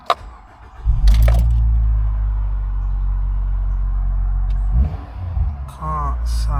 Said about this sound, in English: Start the car up and let's see what happens.